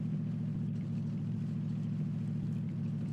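A car engine in the PUBG Battlegrounds video game hums at a steady low idle-like drone, constant and moderately quiet, with no speech over it.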